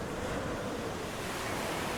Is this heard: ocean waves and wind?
yes